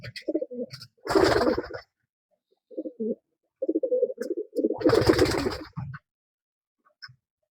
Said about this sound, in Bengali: আমি এখন কবুতরগুলো টস বক্সের মধ্যে আটকাবো